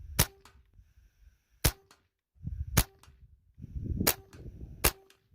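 Benjamin Maximus air rifle firing .177 Griffin 16-grain hollow-point slugs at a 40-yard range: five sharp, loud cracks spaced about a second apart, each a crisp snap with a brief ring, with faint handling noise between shots.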